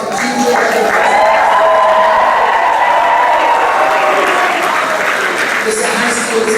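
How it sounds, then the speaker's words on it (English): A large crowd at a high school event bursts into loud, sustained applause and cheering for the teachers and staff, a dense roar that holds steady for several seconds and eases slightly near the end. "please give them a huge round of applause for teachers"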